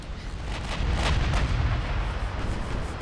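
Heavy naval guns and shell impacts from a battleship engagement in a dreadnought-era warship game: a loud, sustained rumbling bombardment with repeated booming thuds, densest in the middle of the stretch.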